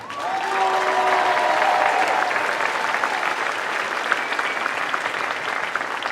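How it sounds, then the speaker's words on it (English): Audience in a school gymnasium applauds a student musician at an all-city band concert, a full, even wave of clapping that swells early and holds steady to the end, with a few whoops near the start. "Please round of applause for Shaylee Kiefer"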